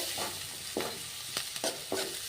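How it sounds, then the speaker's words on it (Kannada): Curry leaves fry in a pan with a soft continuous sizzle, punctuated by a few brief stirring scrapes, close and fairly quiet. "ಕರಿಬೇವು ಜಸ್ಟ್ ಫ್ರೈ ಮಾಡ್ಕೊಳ್ಳೋಣ ಸ್ವಲ್ಪ."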